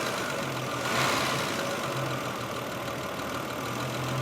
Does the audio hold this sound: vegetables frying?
no